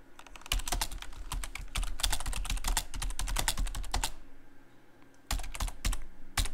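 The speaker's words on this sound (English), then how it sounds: "Okay, so I've written a line in Nano." Rapid, steady keystrokes on a computer keyboard as a line of text is typed in the Nano editor, dense clicking for about four seconds, a brief pause, then another short burst of keys, close and fairly quiet.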